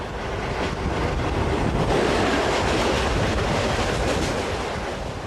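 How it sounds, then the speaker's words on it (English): A passenger train rolls steadily through the night, a dense continuous rumble and wash of rail noise holding at an even, fairly loud level throughout with no voices. "the train rolls on through the night"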